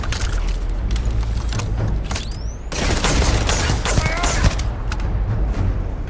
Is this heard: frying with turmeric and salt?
no